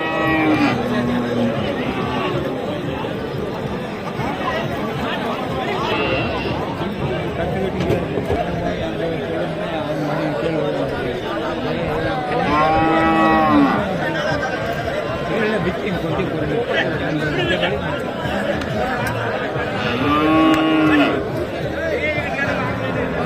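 Cattle moo a few times, long low calls rising above a busy crowd of chattering voices and general market bustle at the Oddanchatram market in Tamil Nadu.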